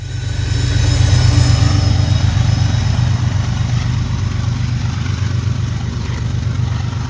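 A CSX freight train hauling autoracks rolls past up close, a loud, steady low rumble of wheels and cars with faint squeals, sustained the whole time without voices.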